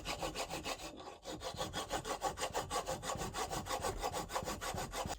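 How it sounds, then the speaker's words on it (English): A hacksaw weighted down cuts metal by hand in a workshop, producing steady rhythmic rasping strokes, about five per second, close and clear with a brief pause near the start. "And hacksaw with a weight attached to it."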